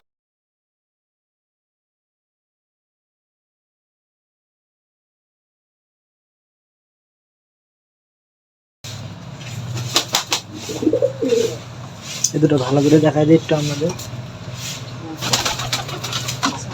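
After several seconds of silence, a pair of red-footed pigeons in a loft, one male and one female, give short throaty coos close by while someone talks over them.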